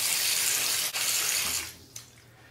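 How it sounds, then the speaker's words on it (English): Hot water splashing and running at a sink before a cartridge-razor shave, a loud steady rushing wash that tapers off, with a small splash near the end. "Splash some more hot water on the face."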